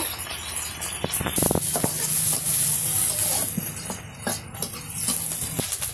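Onion, garlic and green chilli fry in oil in a wok for a village-style curry, producing a continuous close sizzle broken by scattered clicks and scrapes of stirring, with no one speaking.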